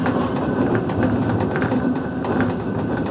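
A historic water-counterweight funicular railway car in Fribourg runs steadily with a continuous loud rumble, broken by occasional clicks and clacks from wheels on the track.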